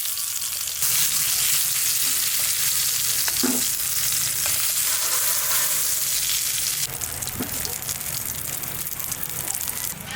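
Eggplant slices hiss and crackle in hot oil in a wok, a steady loud broadband sizzle that runs the whole time with brief stirring clatters, and no voices.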